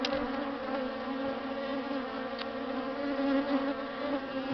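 Angry, aggressive bee swarm droning around a person up close, a steady layered buzz of many insects with steady hum tones and occasional individual bees passing nearer.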